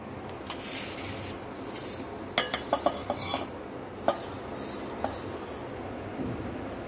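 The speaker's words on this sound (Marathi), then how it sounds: "आता ही साखर आपण ह्याच्यात मिक्स करणार आहोत" Sugar is stirred into chakka (strained yogurt) for shrikhand, a soft continuous mixing in a bowl punctuated by several light metallic clinks of a spoon against the vessel, with no speech.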